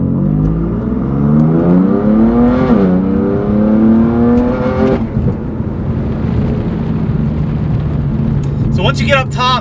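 BMW M4 GTS with S55 engine and aftermarket exhaust revving up through higher RPM, a rising harmonic engine note climbing twice and falling back, loud and close, with talk over it.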